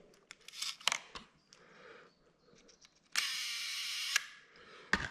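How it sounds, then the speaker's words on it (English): A 4x5 large format camera being handled up close, with sharp mechanical clicks and snaps, a brief whirring stretch, then a final crisp click as the shutter is cocked; quiet with no talking. "cock the shutter"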